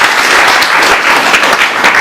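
Dense, continuous applause from an audience at the close of a gathering, loud and close, with many hands clapping steadily throughout and no speech.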